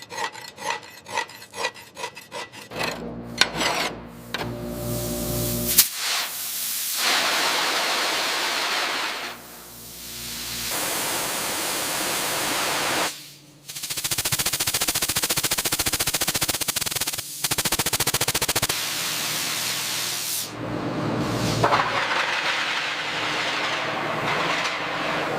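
Metal sheets in a crane factory being stripped of impurities before welding: loud, harsh abrasive grinding in long sustained passes broken by short pauses, preceded by a rapid stuttering burst of scraping hits.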